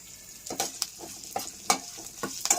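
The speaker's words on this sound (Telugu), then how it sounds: "పచ్చిమిర్చి బాగా వేగిపోతుంది." Green chillies, halved, stirred and frying in a pan with turmeric, sesame seeds and lentils, giving a steady close sizzle broken by a handful of sharp scraping stirs.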